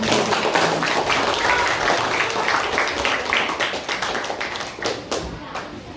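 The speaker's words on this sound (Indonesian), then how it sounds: "Tepuk tangan untuk anak." A group of children claps rapidly and together in a dense burst that gradually thins and fades toward the end.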